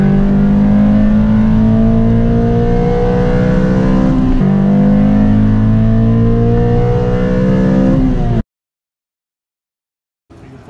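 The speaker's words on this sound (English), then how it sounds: "Oh my god, that rev hang is kind of ridiculous." Engine of a tuned Honda Civic Si revving hard and loud, its pitch climbing, dropping briefly, then climbing again for about eight seconds before cutting off into silence, with a faint return of sound at the very end.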